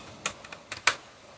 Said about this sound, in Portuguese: Vamos digitar a senha do computador.